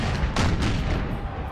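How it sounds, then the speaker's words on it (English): Howitzer artillery in the game Empire: Total War booms in a dense, continuous barrage of heavy blasts with several sharper hits rising above the roar. "Some devastating howitzer hits right there at the beginning."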